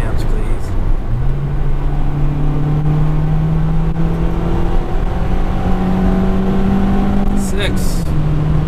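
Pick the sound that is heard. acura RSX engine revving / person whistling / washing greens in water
acura RSX engine revving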